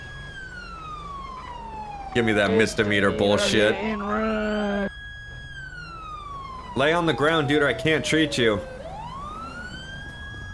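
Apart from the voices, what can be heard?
police car siren running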